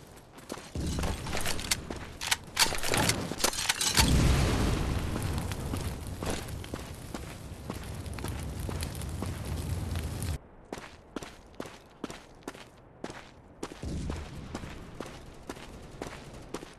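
A grenade explodes in the Counter Attack mobile multiplayer shooter, a loud broadband boom swelling around four seconds and rumbling for several seconds, followed by a rapid string of sharp gunfire bursts and game effects.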